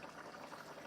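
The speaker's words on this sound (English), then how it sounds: "It's boiling constantly." Spicy and sour spareribs soup with tomato bubbles steadily at a rolling boil in a pot, a continuous close, soft seething hiss with no talk over it.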